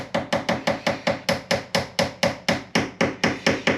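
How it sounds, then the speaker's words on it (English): Hammer end tapping to compress sand during an RC scale Bell Huey Iroquois helicopter build: about fifteen evenly spaced, close, sharp knocks in a steady rhythm. "give the end of the hammer a tap so it compresses"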